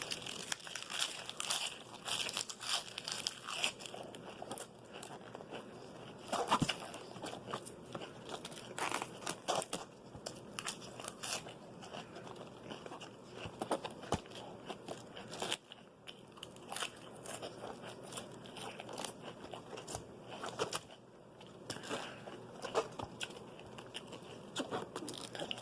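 Fresh, whole head of lettuce chewed up close, with loud crisp crunches and crackling bites repeating steadily over a quiet background, no talking.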